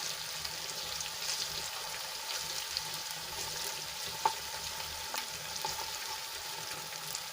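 Garlic chili chutney sautéing in a hot pan, a steady close sizzle and crackle of frying with an occasional light stir, no talking over it.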